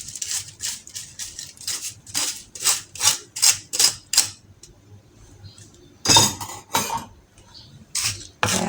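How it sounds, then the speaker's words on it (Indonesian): Fried anchovies being tossed into sambal korek in a pan, heard as a run of rapid, close metallic clinks and scrapes of a utensil against the pan, pausing briefly midway before resuming in louder bursts. "setelah itu baru kita masukin teri yang sudah kita goreng tadi"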